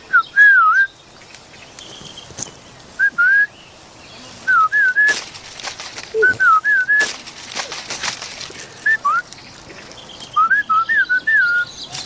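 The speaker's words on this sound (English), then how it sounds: "So the whistling does make sense in that scenario." Short, bright whistled phrases repeat in bursts, separated by pauses and rough noisy background bumps, with no speech over them.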